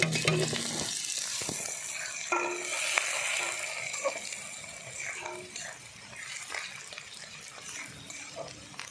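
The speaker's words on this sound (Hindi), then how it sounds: "प्याज पकईदेवा" Onions fry in hot oil for a mutton gravy, giving a dense, continuous sizzle with clattering stirring and scraping throughout, close and fairly loud.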